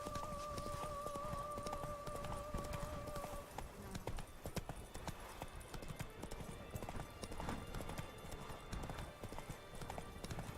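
Hooves clip-clopping steadily from the horse Roach in the Witcher 3 video game, a continuous close rhythm of footfalls running the whole stretch, with a brief tonal game sound early on and no talking.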